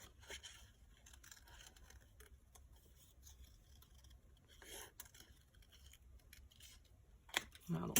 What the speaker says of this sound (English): let me try to cut a butterfly here somehow